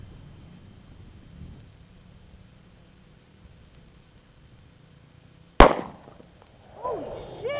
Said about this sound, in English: I'm shooting a 40